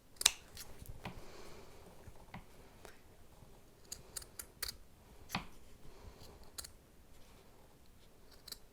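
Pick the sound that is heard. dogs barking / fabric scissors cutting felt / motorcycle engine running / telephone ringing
fabric scissors cutting felt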